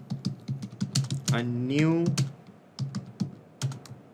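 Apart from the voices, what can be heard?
typing a message on a computer keyboard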